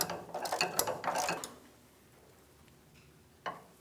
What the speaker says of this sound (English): I had some good leverage with this ratchet